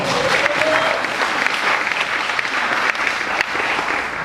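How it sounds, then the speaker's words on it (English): An audience at the Redux Project premiere at Sydney Festival 2014 breaks into sustained applause, a dense wash of clapping from a full crowd that holds steady for several seconds. "Round of applause."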